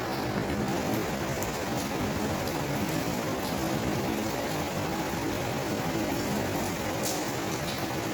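A steady, dense hiss of rain mixed with hail falls continuously at an even level, with occasional faint sharper drops standing out.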